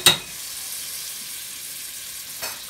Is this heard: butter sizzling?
yes